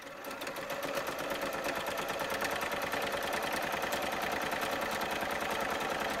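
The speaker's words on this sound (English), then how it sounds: "So now again, we're sewing that diamond edge to the inseam," Sewing machine stitching a diamond-shaped edge to a pant inseam for small doll trousers: a continuous rapid rhythmic whirring chatter, close and steady from start to finish with no talk.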